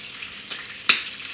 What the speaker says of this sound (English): Put our next batch of apple fritters in.